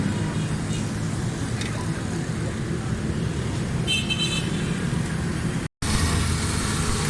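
A Suzuki Alto 1000cc car engine, just repaired after a carbon-fouled spark plug and fuel problem, runs at a steady idle with a constant low rumble, a short horn toot from traffic and faint voices in the background.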